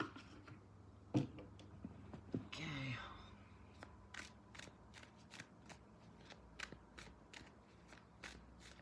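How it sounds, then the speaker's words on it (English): Tarot cards being shuffled at a table, a run of soft papery riffles and taps arriving in steady bursts, close and quiet, with a brief murmur of a voice partway through. "I'm going to shuffle the cards a little more."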